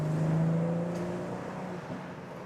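A 2021 BMW M440i or Audi S5 convertible climbs a hill in Sport Plus mode, its engine a steady droning hum under road noise that eases slightly, with no speech.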